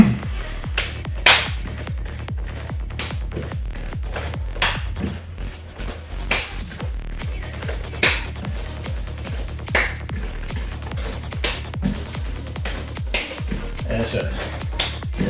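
Hand claps beneath a raised knee during a cardio workout, a steady run of sharp, evenly spaced smacks about twice a second, fairly close, over rhythmic background music with some talk.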